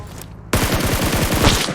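Automatic gunfire in the video game PUBG Mobile, a rapid, evenly spaced burst of loud, close shots that starts abruptly after a quiet moment and runs to the end.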